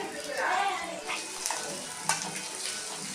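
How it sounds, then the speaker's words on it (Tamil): Garlic frying in hot oil in a pan, a steady close sizzle with light stirring scrapes and a brief clink, moderately loud, with no speech over it. "எண்ணெய் காய்ஞ்சதுக்கு அப்புறம் பூண்டை அதில் வதக்கி எடுத்துக்கோங்க"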